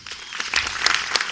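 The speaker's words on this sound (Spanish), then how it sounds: "por favor, un fuerte aplauso para el doctor Marco Naranjo" Applause from an audience at a conference on central banking challenges, honoring Dr. Marco Naranjo; a steady wash of many hands clapping at moderate volume, continuous throughout with no talk over it.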